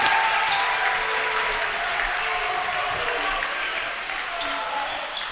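A crowd at a high school basketball game cheers and claps in a steady broad roar that fades slightly over a few seconds. A commentator talks over it.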